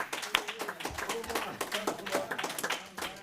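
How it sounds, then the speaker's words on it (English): Scattered clapping from a modest audience at a political gathering, greeting a city commissioner on arrival, uneven claps of moderate loudness with some murmuring voices underneath. "Let's give him a round of applause"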